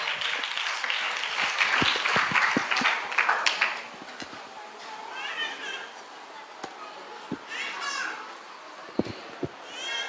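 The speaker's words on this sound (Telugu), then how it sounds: "చప్పట్లు కొడదాం అందరం కూడా" An audience claps together at a church Christmas celebration in Ilaparru, a few seconds of dense applause that fades into scattered claps, with children chattering and calling out nearby.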